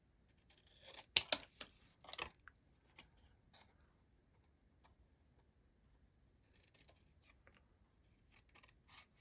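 Scissors cutting card in a craft setting: a few close, crisp snips in quick succession, a pause with faint handling, then more light snipping at the end.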